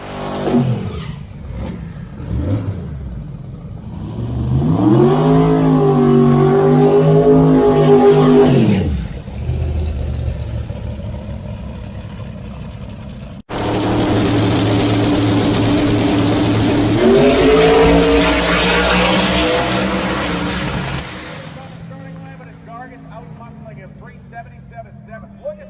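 Drag race cars at a Bradenton Motorsports Park finals event roar loudly down the track in two long bursts of rising engine howl, with a commentator talking over and between the runs.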